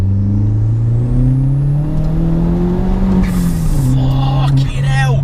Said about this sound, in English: we'll roll on the boost in second gear again.